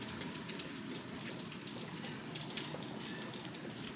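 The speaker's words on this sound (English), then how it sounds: "It's raining today." Steady rain hisses softly and evenly, a faint continuous patter with no other sounds.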